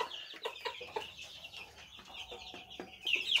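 Chickens cluck in short, irregular bursts at feeding time, close and moderately loud, with no talking.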